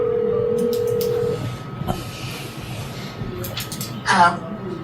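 A phone call is dialed on speakerphone at a county commission meeting: a steady tone, then a few soft dial beeps and a brief burst, with people talking in the room.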